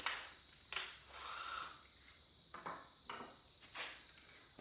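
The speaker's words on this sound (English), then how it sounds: "I got to use a drill bit." A weak, dying cordless drill fitted with a drill bit is bored into a rebuilt saw table part. Several short, faint whirring bursts come with pauses between, over a steady high whine.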